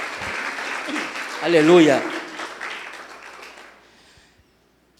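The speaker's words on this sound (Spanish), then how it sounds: "¿Cuántos le dan un fuerte aplauso al Espíritu Santo?" Congregation applause at an evangelical church service in Ecuador, a broad mix of clapping under a voice calling out, swelling briefly then fading away to silence.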